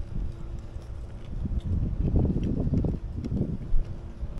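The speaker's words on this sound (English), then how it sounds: "It's pretty windy out" Steady gusty wind rumbling and buffeting against the microphone, with no voices, just a continuous low roar rising and falling.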